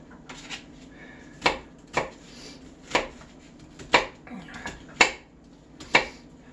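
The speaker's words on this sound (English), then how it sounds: "now I'm dicing the onions" Sharp knife dicing onion on a board for latkes: six evenly spaced, crisp chopping strikes about a second apart, close and clear over a quiet kitchen background.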